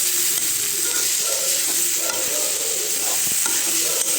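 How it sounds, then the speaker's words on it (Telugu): Beetroot and moong dal frying in a pan give off a steady, close sizzle with occasional soft stirring scrapes. No one talks. "బీట్రూట్ కూడా మగ్గి నీట్‌గా ఈక్వల్‌గా ఫ్రై అవుతుంది"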